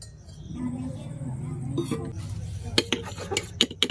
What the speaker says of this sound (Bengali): তেল আর জলটাকে আমি খুব সুন্দর করে মিশিয়ে নিচ্ছি।